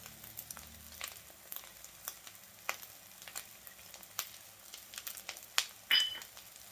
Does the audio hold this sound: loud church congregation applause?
no